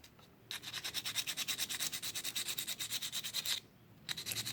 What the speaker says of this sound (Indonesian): Ini kabel ground kita amplas juga ya teman-teman.